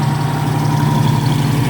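A 1967 Daimler V8 250 engine idling at close range, a loud, steady low throb with an even rhythmic pulse and no voices.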